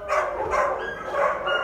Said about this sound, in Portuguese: Olha os cachorros dando bom dia